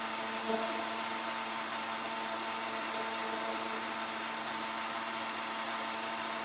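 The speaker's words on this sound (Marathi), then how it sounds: "तर काही आमच्या मिक्सरचा आवाज तुम्ही ऐकला असाल, खूप जबरदस्त आवाज आहे आमच्या मिक्सरचा." A loud mixer grinder whirs steadily while grinding idli batter, a constant close motor drone with no breaks from start to finish.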